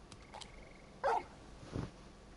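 Torgal, the dog in Final Fantasy XVI, gives a short sharp bark followed by a softer low woof, both fairly quiet over a faint game background.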